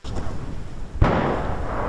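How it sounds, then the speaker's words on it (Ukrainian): A loud, close explosion booms suddenly midway near a Ukrainian military position, cutting through steady background noise and leaving a heavy rumbling wash afterward. "аж раптом вибухає поруч"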